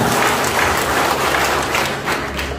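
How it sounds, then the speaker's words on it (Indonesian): Steady applause from a crowd, dense clapping filling the whole stretch at an even, moderately loud level. "tepuk tangan dong buat PT ya"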